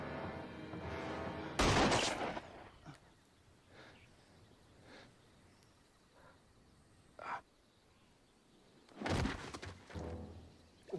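A gunshot from a scene in the TV show Lost rings out as a sharp loud burst, with a second bang near the end, separated by quiet stretches of faint background sound.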